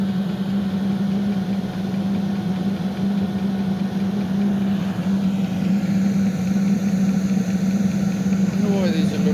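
Small 5-8 kW diesel heater running, a loud, steady droning hum with a strong low tone that holds constant, close to the microphone, with brief speech over it.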